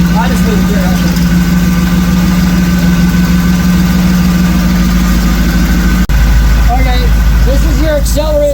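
A car engine with a rebuilt Holley carburetor idles loudly and evenly, a steady throbbing hum that shifts slightly partway through, with someone talking over it.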